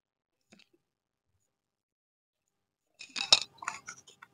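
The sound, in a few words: stirring tomato and soy sauce for chili chicken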